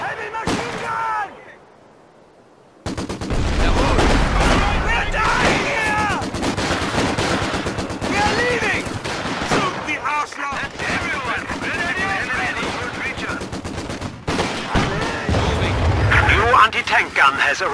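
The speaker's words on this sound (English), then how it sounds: "Heavy machine gun!" Heavy machine gun fire in the video game Company of Heroes 2 rattles in long, loud, sustained bursts with other battle noise, and voices call out over the gunfire.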